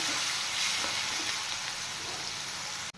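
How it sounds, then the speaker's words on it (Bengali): Chopped onions fry in a pan with black cumin seeds, giving a loud, even sizzle that carries on throughout, close by and unbroken, then cuts off abruptly at the very end. "এবার পেঁয়াজগুলো একটু ফ্রাই করে নেব"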